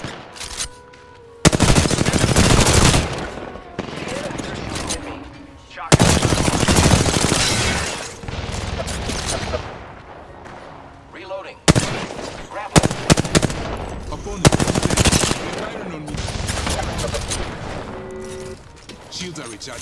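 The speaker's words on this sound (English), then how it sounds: "They're shooting at me." Enemy gunfire in an Apex Legends ranked arena match, loud bursts of rapid automatic shots in several waves with brief pauses between, alone without talk.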